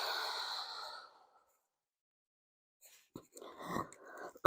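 A soft, breathy exhale during a guided breathing exercise, followed by silence and then faint breathing and small mouth sounds up close.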